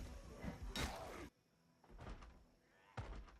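A door in the video game Project Zomboid bangs shut with a loud thunk, followed by two softer knocking thuds, separated by brief quiet stretches.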